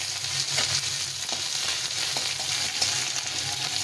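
Handful of onions hitting hot oil with panch phoron spices already frying, a steady bright sizzle with light crackles and a few soft stirring taps throughout.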